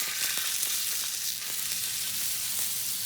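Honey glazed spicy salmon fillet frying in a hot pan, giving a steady, close sizzle with crackling spits throughout and no talking.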